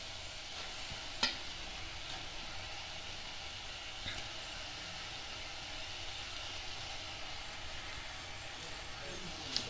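Prawns being stirred and mixed into a thick masala in a pan, a faint continuous sizzle with soft scraping strokes and a couple of sharper knocks, heard alone without speech.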